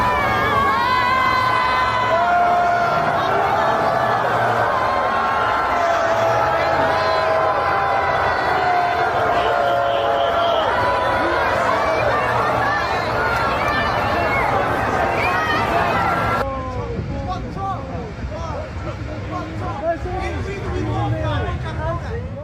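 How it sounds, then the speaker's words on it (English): A street crowd jeering as Donald Trump's motorcade passes, loud dense shouting and booing with whoops and chatter, continuous and sustained, briefly dropping to a slightly different mix near the end. "people on the street as the motorcade's going by booing the shit out of Trump"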